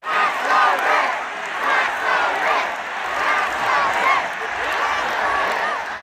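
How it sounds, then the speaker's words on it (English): A large rally crowd of supporters chants a rhythmic political slogan in unison, loud and close, with repeated surging phrases and cheering blended through the din. "I want to show you this clip of the crowd chanting "Tax the Rich" as Kathy Hochul, the governor, is on stage."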